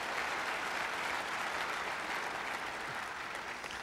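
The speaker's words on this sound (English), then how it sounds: "And with that nice applause" Warm, dense applause from a crowd of students at a Ron Paul event, steady clapping throughout with no break, moderately loud and unaccompanied by speech.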